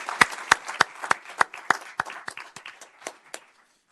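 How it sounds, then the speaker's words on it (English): Scattered applause from a small group at a city council meeting, about a dozen separate sharp claps spaced unevenly and thinning out to silence. "We need a little round of applause."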